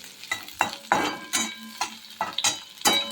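Chopped onion frying in a pan and turning golden brown, a steady close sizzle broken by about eight rhythmic scrapes of a spoon stirring, with no voices.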